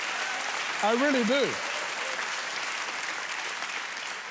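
A church audience applauds in a burst of clapping that fills the room, while a preacher's voice rises briefly over it partway through.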